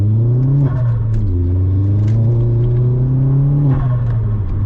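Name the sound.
Vauxhall Astra VXR accelerating and losing traction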